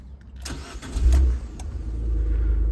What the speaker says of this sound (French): on va vous la démarrer quand même, histoire que ça puisse afficher le kilométrage